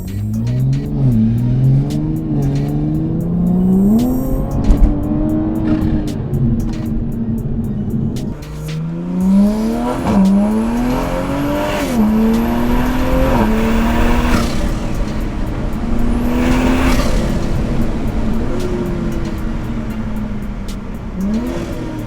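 A Toyota Supra with an MST intake, catted downpipe and Magnaflow X-Mod exhaust on a dyno, engine revving hard through repeated rising pulls with gear-change drops, loud and close, no talk.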